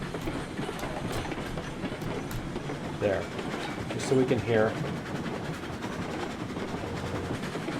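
A train rumbles steadily along the tracks with a rhythmic clatter in Railroads Online, cresting a grade, while someone talks briefly over it.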